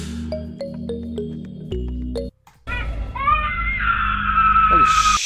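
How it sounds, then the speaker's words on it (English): A baby screaming and wailing in a scary video being played back, with high piercing cries that break off briefly and then return as a sustained shrill wail over a busy background. "Because I remember the screaming baby."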